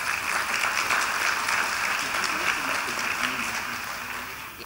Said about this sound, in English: Send her back with an applause again